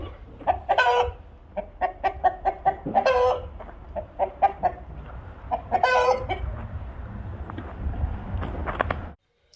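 Chickens clucking and squawking in repeated bursts close by, with short pauses between calls and a low background rumble.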